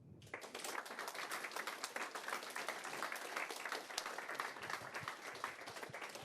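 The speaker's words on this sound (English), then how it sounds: "if we could just have one more big round of applause for the 5 speakers" A conference audience breaks into sustained applause for a panel of speakers, dense clapping starting abruptly and continuing evenly at moderate distance.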